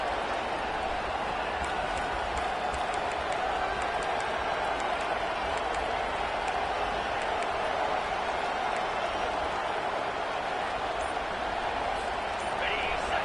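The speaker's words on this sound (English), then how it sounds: "this crowd is tearing the lid off this place" A stadium crowd at a football game roars steadily for the whole stretch, a loud, continuous wash of cheering and shouting that never lets up, with a commentator's voice blended into the noise.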